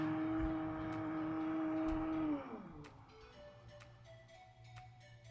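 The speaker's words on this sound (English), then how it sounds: "Move blind to the upper limit." Somfy Wirefree RTS Li-ion battery roller blind motor running up to its upper limit; a steady electric motor hum that winds down and stops partway through, leaving quiet room tone with faint ticks.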